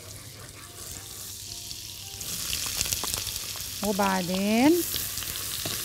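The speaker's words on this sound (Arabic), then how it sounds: "اول حاجة هنعملها هنحط البصل" Onions frying in butter in a hot pot make a continuous crackling sizzle that swells toward the end, with a voice briefly speaking over it.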